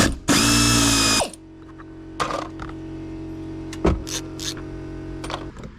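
Bolts are driven out with a powered ratchet while seats are removed from a Camaro, one loud close burst of whirring, then quieter clicking and mechanical rattling as the work continues.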